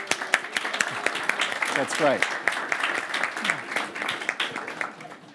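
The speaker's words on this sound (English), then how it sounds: "why are people clapping?" Audience applause at a Stanford communication lecture, greeting donors seated in the front row: a steady, dense patter of many hands clapping that runs throughout while someone speaks over it.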